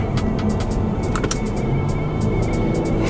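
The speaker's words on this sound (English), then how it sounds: "I'm trying to downshift." A Nissan G35 coupe is heard from inside the cabin while downshifting on the road, a constant low engine and road rumble with a few faint ticking clicks over it.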